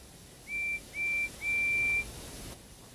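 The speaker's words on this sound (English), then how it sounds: "Just then, the guard's whistle blew and the two engines set off." A train guard's whistle sounds three times at a steady pitch, the blasts growing longer each time, heard moderately near over a faint background hiss.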